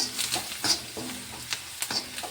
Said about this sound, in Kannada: ನಾನು ಸ್ವಲ್ಪ ಮಿಕ್ಸ್ ಮಾಡಮ್ರಿ